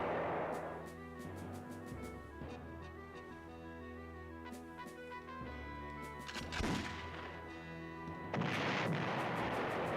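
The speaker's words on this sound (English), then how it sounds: "Good job, artillery." 88 artillery guns firing in the PlayStation 1 game Panzer General, with a few deep booms over steady game music, moderately loud.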